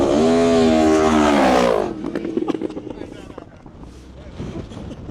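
A Porsche Turbo S and a Yamaha R1 superbike launch side by side off the line in a drag race, a loud rising engine roar with wind buffeting that drops away abruptly as the vehicles pull off, with talk afterward.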